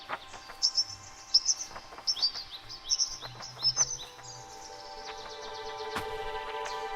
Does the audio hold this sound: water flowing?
no